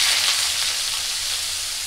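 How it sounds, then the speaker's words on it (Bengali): Mustard seeds and bitter gourd fry in hot oil in a wok, giving a loud, even sizzle that hisses continuously up close with no talk. "কড়াই গরম হয়ে গিয়েছে, তো দিয়ে দেবো সরিষা। এখন দিয়ে দেবো করলা,"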